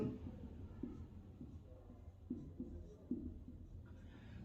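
Pen strokes writing an Arabic word, faint scratchy taps and short scrapes in an irregular rhythm, quiet and close, with no talk.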